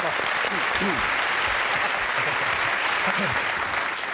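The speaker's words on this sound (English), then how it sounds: "Al, give a round of applause." Studio audience applause on a British comedy panel show, a dense, steady wash of clapping throughout, with voices talking over it.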